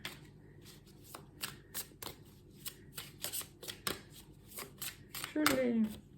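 Oracle cards are shuffled by hand in quick, soft riffling bursts, close and fairly quiet, with someone speaking French over the shuffling.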